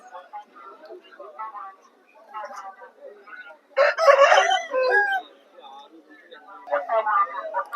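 Roosters at a Sunday poultry market in Vijayawada crow and cluck in bursts, one loud close crow standing out midway, with people talking around them.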